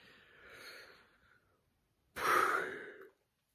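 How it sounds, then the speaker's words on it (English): A quiet person yawns twice: a soft breathy exhale first, then after a short pause a louder, drawn-out open-mouthed yawn that fades into silence. "Wow, there's the yawn."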